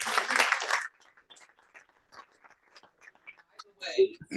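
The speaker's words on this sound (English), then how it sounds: "Okay, double applause." An audience at a school board meeting in a high school gives a short burst of applause that lasts under a second and stops abruptly, followed by quiet talk.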